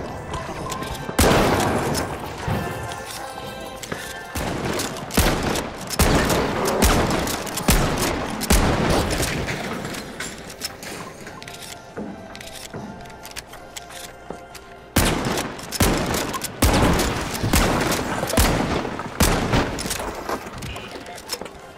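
Heavy KS-23 shotgun blasts from The Finals boom out one after another in irregular bursts, loud and close, with thuds and chaotic game noise between shots and occasional voices underneath.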